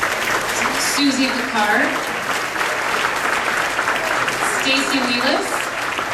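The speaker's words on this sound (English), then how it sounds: "please give them a warm applause" Warm, sustained audience applause for volunteers at a LAMposium event, steady clapping filling the room while a speaker reads names over it.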